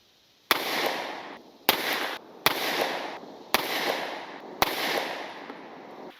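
Five pistol shots fired at 25 yards with 124 grain Gold Dot ammunition, evenly spaced about a second apart, each a sharp loud crack with a short decaying tail, no voices.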